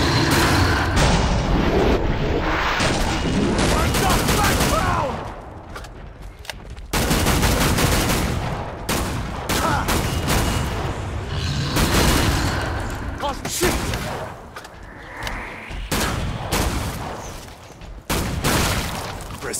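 Gunfire from the game Killing Floor 2, loud dense volleys and bursts of shots with short breaks, mixed with booms and clanking, and voices speaking between shots.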